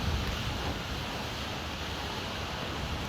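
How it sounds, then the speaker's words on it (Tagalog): Strong wind blowing outdoors, roaring as steady broadband rush with microphone buffeting, loud and continuous throughout with no speech. "Grabe nung lakas ng hangin."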